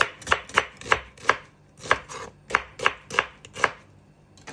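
A knife chops through white onion on a cutting board, about a dozen crisp, close knocks in a quick, slightly uneven rhythm.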